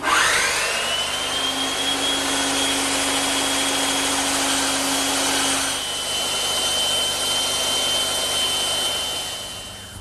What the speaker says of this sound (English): So I'm just going to take my time back at the bandsaw.